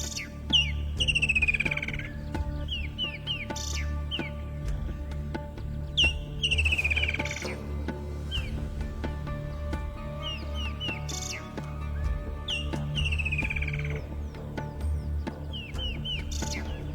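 Newborn chicks in a nest, one of them a young cuckoo shoving another chick toward the edge, give repeated bursts of high, thin chirps. The calls come in clusters every few seconds over a steady low background hum, fairly close.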